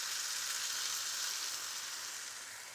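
Lamb chop curry sizzles steadily in a hot pan as natural yoghurt is stirred through, a continuous bright frying hiss at close range with no talking.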